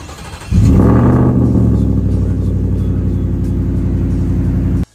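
A truck's Gen 5 3-liter Whipple supercharger engine with a custom 3-inch stainless steel exhaust kicks in loudly and revs hard, then holds a steady, deep, throaty roar close by for several seconds before cutting off abruptly.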